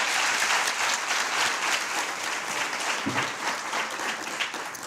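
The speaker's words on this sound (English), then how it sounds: "Another round of applause, please." Sustained round of applause from a moot court competition audience honoring the finalists, broad dense clapping from a crowd in a hall, loud at first and gradually thinning toward the end.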